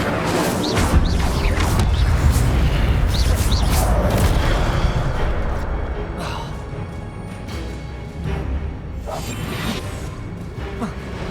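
Incendio fire spell cast in Hogwarts Legacy, a burst of whooshing flame and crashing impacts, loud at first and then easing into softer swishes, with a voice speaking over it.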